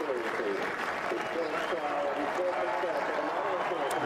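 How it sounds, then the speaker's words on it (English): A crowd at York racecourse roars and applauds after Frankel's win, a dense, continuous wash of cheering and clapping heard from a distance, with a commentator speaking over it. "Crowd here absolutely delirious."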